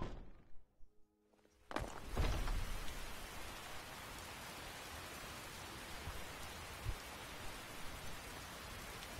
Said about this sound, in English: it's basically been raining every day